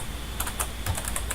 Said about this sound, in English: I'm typing that in myself.